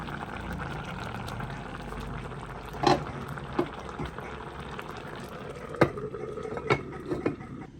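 Milk curry made with home-grown drumsticks bubbles steadily in a pot, a soft continuous simmer broken by a few louder pops and splutters near the surface.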